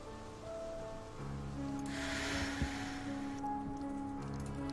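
Steady rain falls in the background of a hidden object game set at an abandoned asylum lodge, a soft continuous hiss with a brief brighter wash midway and low game music humming underneath.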